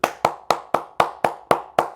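Eight sharp, evenly spaced hand claps, close and crisp, about four per second, with no other sound between them.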